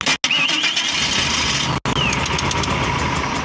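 The engine of a 1979 GMC C35 camper with a blown head gasket cranks briefly, cuts out, cranks again and catches into a rough, steady idle, close and loud.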